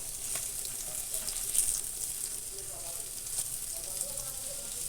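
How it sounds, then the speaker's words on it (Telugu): Paneer cubes spread evenly in a pan of hot ghee, frying with a steady, soft sizzle and hiss that holds at a fairly even level throughout, with no talk. "ఇలా ఈవెన్గా స్ప్రెడ్ చేసి అన్నీ ఈవెన్గా ఫ్రై అయ్యేలాగా ఫ్రై చేసుకోవాలి."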